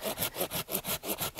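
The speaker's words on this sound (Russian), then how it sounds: "Если поросль очень толстая, очень мощная, то без пилы не обойтись." A hand saw cuts through a thick tree sucker growing from a trunk, making close, steady back-and-forth rasping strokes, about seven in a row, with no talking.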